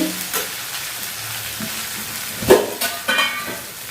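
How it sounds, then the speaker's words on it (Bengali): Ginger frying in a pan, with a steady sizzle and scattered stirring scrapes; louder bursts of spatter and clatter come near the end. No voices. "এটা থেকে একটু কাঁচা গন্ধটা দেওয়া পর্যন্ত এটা একটু আমি আদা একটু ভেজে নেব"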